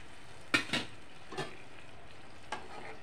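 A low, steady sizzle of water in hot oil and spice paste for a vegetarian mustard hilsa-style curry, broken by a few light clinks of a utensil stirring in the pan.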